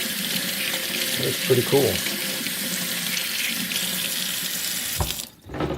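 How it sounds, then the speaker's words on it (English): A water tap runs steadily into a sink while a toy figure is rinsed under it, the flow continuous and close with a brief splashy change near the end, and a voice speaks briefly over it. "So let's get this water cold."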